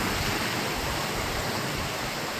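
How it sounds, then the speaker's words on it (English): A canyon waterfall roars as a steady, dense, full-bodied rush of falling water, close and loud throughout with no other sounds. "There's the waterfall."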